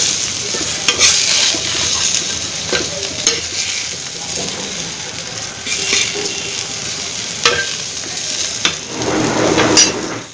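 A greens and vegetable bhaji sizzles steadily in a pan on a home stove while a spatula stirs it with repeated scraping and tapping strokes, loud and close throughout.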